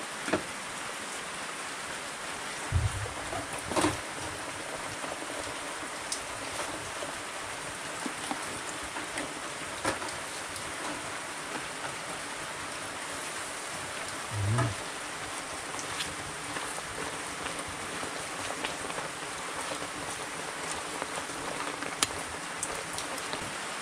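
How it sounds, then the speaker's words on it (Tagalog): Steady rain falls across a rural farm plot, a dense continuous hiss of drops with a few brief louder patters and no voices. "Tuloy-tuloy yung pag-uulan ngayon."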